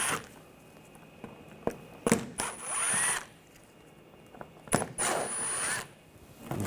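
A power driver with a T20 socket backs screws out of the front inner fender shield on a Nissan Rogue, giving several short, close whirring bursts with quieter gaps and light clicks between them.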